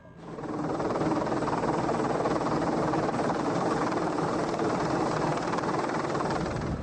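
A military Pave-Low helicopter flies close and loud, its steady rotor thump and turbine roar holding constant throughout.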